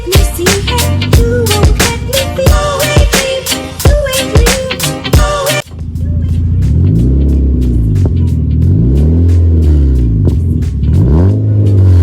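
An MG ZR 105 hatchback with a 1.4-litre K-series petrol engine is revved several times in quick, sharp bursts, then settles into longer, slower rises and falls in pitch. It sounds loud and close throughout, with no talk.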